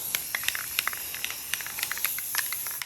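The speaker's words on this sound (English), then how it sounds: "you want to move around the tumbler and get it all spray painted." Aerosol spray paint being applied around a tumbler while preparing it for epoxy: a steady close hiss broken by repeated short sputtering bursts as the can moves about.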